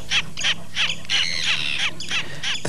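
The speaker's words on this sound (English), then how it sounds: "The sight and sound of moorland birds is a source of pleasure in the Dark Citadel" Moorland birds at Dimmuborgir by Lake Mývatn, Iceland, call repeatedly in short harsh squawks, close and fairly loud, over a steady low background hum.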